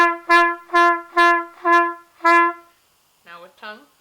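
A trumpet sounds a series of six separate notes on one pitch, each started with the lips alone and no tongue, so the onsets swell softly rather than attack; someone speaks briefly afterward.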